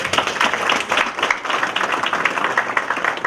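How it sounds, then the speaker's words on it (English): An awards-ceremony audience applauds the nominees at a community excellence awards night, a sustained, even patter of many hands clapping together, moderately loud and with no voices on top. "can they all just please give themselves a big round of applause?"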